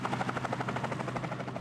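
A military helicopter arriving in the video game One Military Camp, heard as a steady pulsing rotor drone with a rapid rhythmic flutter, moderately loud and continuous, with no talking.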